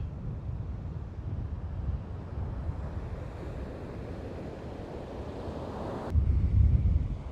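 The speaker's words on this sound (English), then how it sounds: "Look at those waves, wow." Steady rushing ocean waves and gusting wind near the bridge in San Francisco, with constant low buffeting on the microphone and a brief louder swell near the end. No voices.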